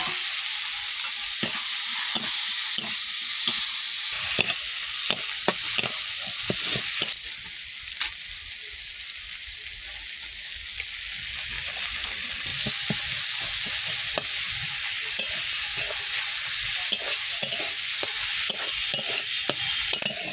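Masala and chopped tomato are stir-fried in a pan, with continuous loud sizzling and rapid repeated scraping of the spatula throughout, and a brief softer stretch midway.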